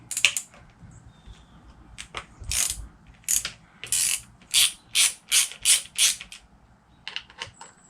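A hand ratchet with a 10mm socket removes the ignition coil bolts on a personal watercraft, giving close, crisp bursts of clicking in quick strokes, with brief pauses between them.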